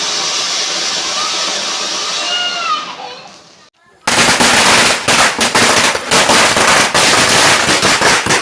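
Firecrackers set off during Vishu celebrations, a loud sustained crackling barrage of rapid overlapping bursts that erupts suddenly after a quieter stretch of outdoor ambience with birdsong.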